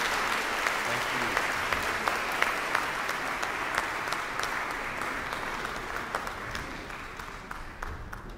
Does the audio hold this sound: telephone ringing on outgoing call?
no